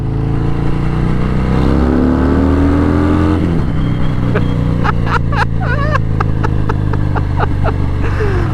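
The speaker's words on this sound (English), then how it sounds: "this exhaust is popping" A 2021 Harley-Davidson Fat Bob engine drones steadily, then a rapid series of sharp, crackling pops and bangs bursts from the exhaust on the overrun, close and loud.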